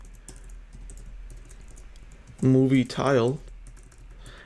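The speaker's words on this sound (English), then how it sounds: "I'm having difficulty typing" Soft keystrokes on a computer keyboard while coding a Flutter app, faint and irregular under steady room noise, with a short burst of a voice partway through.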